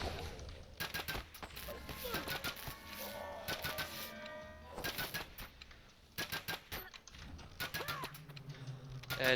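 Rapid bursts of gunfire rattle through a dungeon level in a video game, quick clustered shots repeating across the whole stretch at a moderate level, with faint game sounds in between.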